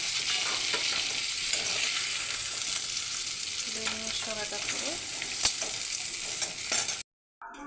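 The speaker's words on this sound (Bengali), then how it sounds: "আমার কাঁকড়াগুলো দেখে ভালো করে ভাজা হয়ে যাচ্ছে" Steady, loud sizzling of crabs frying in a pan with occasional stirring scrapes, and a brief spoken phrase near the end before it cuts off.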